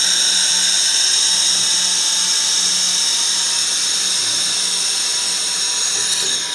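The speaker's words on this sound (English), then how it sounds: "beautiful welding" GWEIKE M 6-in-1 machine welding metal, a steady high-pitched hiss with a thin whining tone, continuous and close, fading slightly at the end, no talking.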